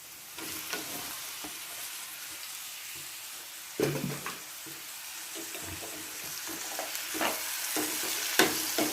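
Vegetables frying in a pan in a home kitchen: a low sizzle runs throughout, broken by occasional stirring clatters and scrapes, close and moderately quiet.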